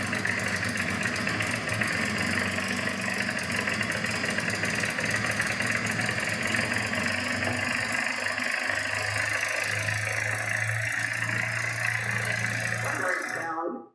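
P-51 Mustang aircraft engine on its first run after restoration, idling loud and steady with a dense rumbling drone that holds for over ten seconds before cutting off abruptly.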